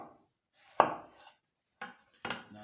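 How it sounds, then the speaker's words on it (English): Three crisp knife chops cut plantain on a cutting board, one, then a pause, then two close together, in an otherwise quiet room. "I'm just going to go ahead and cut it in smaller pieces."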